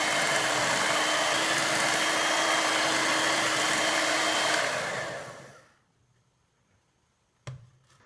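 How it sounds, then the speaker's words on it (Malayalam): An electric hand mixer whirs steadily as it beats fruit cake batter mixed with sugar syrup, a loud, continuous motor drone that cuts off near the end, followed by a brief clatter. "നമുക്കിതിനെ ഒന്നുകൂടി ബീറ്റ് ചെയ്തെടുക്കാം"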